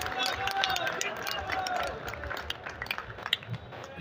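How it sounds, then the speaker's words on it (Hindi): Audience at an all-India mushaira in Muzaffarnagar claps to welcome a poet, a broad wash of applause and crowd noise under talk, thinning out toward the end. "जोरदार तालियों से इस्तकबाल कीजिए"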